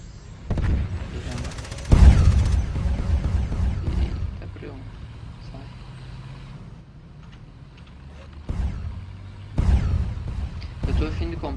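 Heavy tank cannon booms fire a few times in Tanki Online, separated by quieter stretches with engine rumble and some talk.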